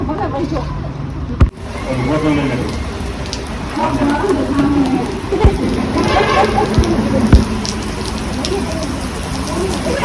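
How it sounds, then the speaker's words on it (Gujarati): Heavy rain hisses steadily throughout at the Shree Halar Tirth Aaradhana Dham, with a few sharp taps, while a voice talks over the downpour. "વરસાદ આવે છે ગાઈસ અત્યારે જોરદાર"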